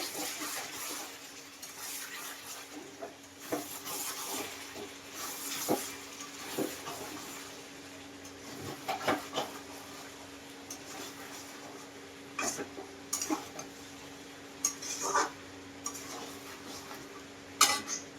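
A spoon stirs a curry gravy with sour curd added in a cooking pot, giving faint, irregular metallic clinks and scrapes scattered over a quiet kitchen background.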